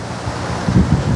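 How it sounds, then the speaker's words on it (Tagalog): Strong sea waves surge and crash onto the shore in a short, rough burst, with a low rumbling wash and gusts of wind buffeting the microphone. "Malakas po yung hagos ng dagat. Yung alon. Napakalakas mga kalingap."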